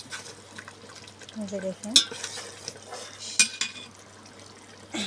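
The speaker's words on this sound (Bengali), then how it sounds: "এই যে এখানে বড়ি রান্না হচ্ছে" Bori lentil dumplings cook in a pan with faint sizzling and the occasional scrape and clink of a utensil stirring, while a person speaks briefly nearby.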